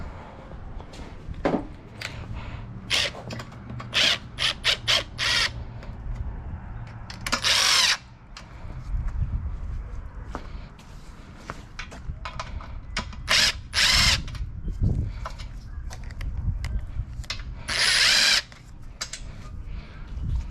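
A power tool drills in repeated short bursts as it snugs up bolts on an 8-gallon Harbor Freight air compressor, loud and close, with ratcheting clicks and handling noises between the runs.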